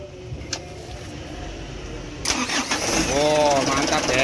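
A Mitsubishi Canter truck engine cranks on its starter motor and catches, settling into a rough idle close by while people talk.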